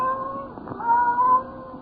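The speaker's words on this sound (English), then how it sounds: "the silence was broken by the faint crying of one cat" A cat cries softly, a thin drawn-out meow that wavers and swells slightly before trailing off, alone and fairly faint.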